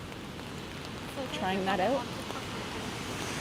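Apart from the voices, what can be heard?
rain on a city street while walking in Toronto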